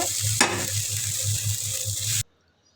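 Noodles cook in a pan without egg, making a steady, close sizzle with rhythmic stirring that stops abruptly near the end.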